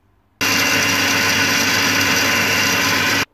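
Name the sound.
Karaca Mastermaid Power 2000W food processor grinding coffee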